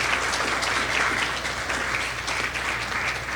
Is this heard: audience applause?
yes